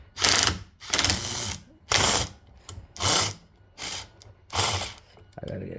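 Impact gun spinning a nut off a clutchless AC compressor on a Scion xB, Toyota: about seven short, loud rattling bursts, each roughly half a second, separated by brief pauses, close up and without talk.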